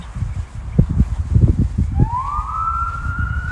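A police car siren rises and holds a steady wail at mid distance while walking in a park, following a stretch of low thumping footsteps and traffic rumble, with no one speaking.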